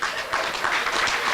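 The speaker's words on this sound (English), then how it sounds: "Give yourself a hand clap," A full-house audience at an investment forum claps together, a dense, steady wash of hand clapping that holds evenly from start to finish with no voices on top.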